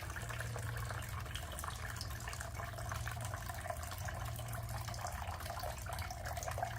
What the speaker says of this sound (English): We're going to drain all of the simulated urine from the urinary drainage bag.